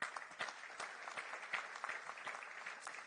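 An audience at a Delhi event on electric vehicles and green mobility claps steadily, a dense wash of many hands heard from a moderate distance and fairly faint, continuous throughout with no voices over it.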